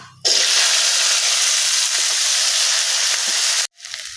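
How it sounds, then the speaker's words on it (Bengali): A steady, bright sizzle of chopped onions frying in hot oil, starting suddenly and running evenly for a few seconds before cutting off. "পেঁয়াজটা আমার লাল লাল করে ভাজা করে নিয়েছি"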